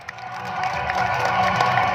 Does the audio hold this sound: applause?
yes